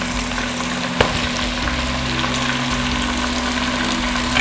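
Chicken fries in a pan on high flame for a chicken korma, giving a steady loud sizzle with a low bubbling rumble and a brief clank near the start.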